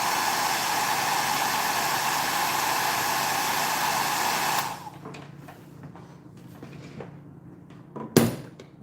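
A hair dryer roars steadily while drying paint on a stenciled wooden box, then switches off after about four and a half seconds, followed by quiet handling and a single clunk.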